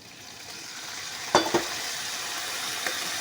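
Onions fried red in a pan with spices hiss and crackle steadily, with two sharp sizzling bursts as a little water hits the hot oil; no talking.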